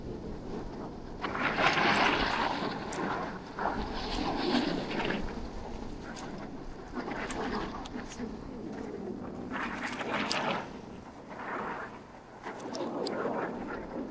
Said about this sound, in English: That wind's a killer, eh?